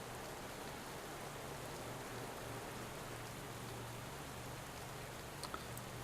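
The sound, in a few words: rain during race in Pro Cycling Manager 2017 video game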